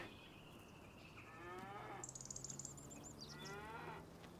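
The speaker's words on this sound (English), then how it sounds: "The cows are getting there." Cattle low from a distance on a Judith Plains, Montana farm, several drawn-out moos overlapping with faint insect chirping and a steady low engine-like hum in the background.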